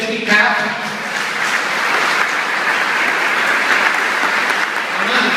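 A church congregation claps steadily, a dense and loud wash of applause that holds evenly throughout without pause.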